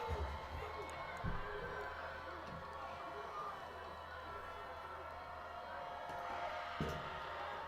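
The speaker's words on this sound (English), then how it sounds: "Crowd's getting loud." A high school football crowd roars in a steady, distant wash from the stands, with a commentator's voice heard over it.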